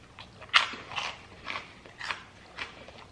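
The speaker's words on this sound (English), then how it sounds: "I can't believe how crunchy strawberries can be if you suck all the moisture out of it." Freeze-dried astronaut strawberry crunched between the teeth, five or six brittle, crackling bites spaced about half a second apart, close and fairly quiet with no talking.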